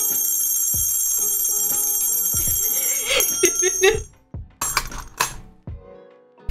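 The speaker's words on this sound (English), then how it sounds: "You're gonna get a big, sick bell." A loud bell alert rings out during a livestream, sustained bright ringing tones for several seconds followed by a few sharp clattering hits and short bursts.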